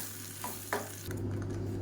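Batter bubbles gently in a pot while being stirred, soft scraping strokes and faint simmering close by, with a low steady hum underneath.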